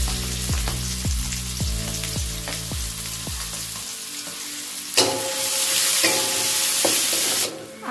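Chili, red onion and white spring onion fry in a wok for beef mie goreng, a loud steady sizzle broken by a series of clacking stirs that fade out midway, then a brighter hiss and scraping.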